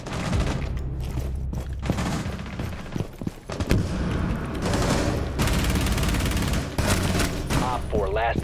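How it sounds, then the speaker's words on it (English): Gunfire in a Rainbow Six Siege match: dense, continuous bursts of shots running almost the whole time, loud and close, mixed with game noise and occasional player talk over the top. "I shot him like 20 times, bro"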